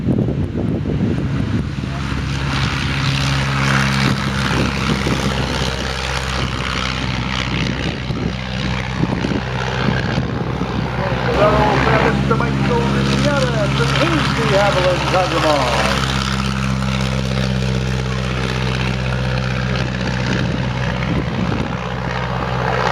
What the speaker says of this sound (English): Beautiful airplane, highly modified de Havilland Chipmunk.